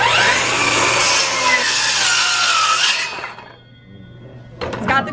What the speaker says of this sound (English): we are launching the M18 Fuel 7 1/4 inch rear handle